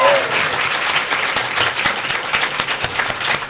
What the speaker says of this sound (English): Hello, clap for him.